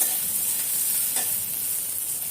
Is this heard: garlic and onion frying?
yes